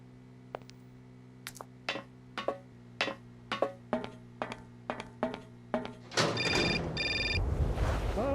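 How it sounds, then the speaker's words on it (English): Telephone ringing in the adventure video game Syberia, a repeated ring sounding about once a second in a steady series, clear and fairly close, followed by a burst of louder noisy game sound at the end. "Oh, another phone call."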